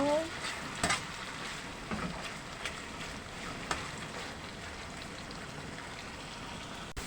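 Food sizzling steadily in a frying pan as it is stirred, with scattered scraping knocks from the utensil at close range against a continuous crackling hiss.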